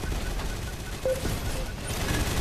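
A minigun fires in the video game Gun Raiders as a rapid, continuous rattle of shots, fairly loud and steady throughout with no talk.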